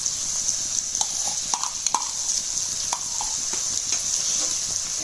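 Cooked chicken with chopped coriander stirred in a pan, with a steady sizzle under repeated scraping and clinking strokes of the spoon against the pan.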